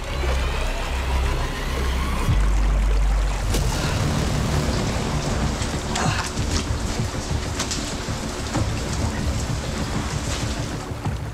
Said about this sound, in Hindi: बाहर लगातार बारिश हो रही थी।